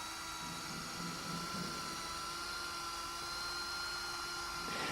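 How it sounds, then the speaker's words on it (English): An electric drill spinning a polishing mop across car paintwork, a steady high-pitched motor whine with a constant tonal hum, fairly quiet and unchanging over several seconds. "Start the drill and move the mop across the surface in a sweeping action"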